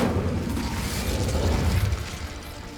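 A fire spell going off in Hogwarts Legacy, a rumbling whoosh of flame with low crackling bursts that carries on steadily for a few seconds.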